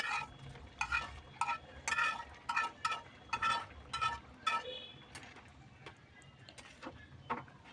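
Vegetables being stirred into khichuri in a pot, a spoon scraping and clinking against the pot in quick repeated strokes over a soft sizzle, with the strokes thinning out toward the end and no voices.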